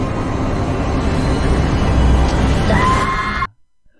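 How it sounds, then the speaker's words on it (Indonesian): A woman screams in pain during surgery, a loud, sustained, strained cry lasting several seconds over dense noise before cutting off abruptly to near silence. "Raven menjerit kesakitan"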